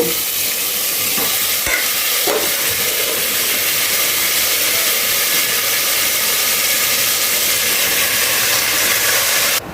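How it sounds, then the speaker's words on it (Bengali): Marinated chicken is tipped into a pressure cooker and starts frying, giving a steady, loud sizzle and hiss that runs throughout, with a few brief stirring knocks near the start. "এবারে এই ম্যারিনেট করা চিকেনটাকে আমি প্রেসার কুকারে দিয়ে দেব"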